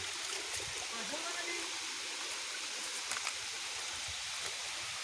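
Steady, dense rushing of the Lidah Naga waterfall fills the whole clip, a constant broadband roar heard close by with no pauses.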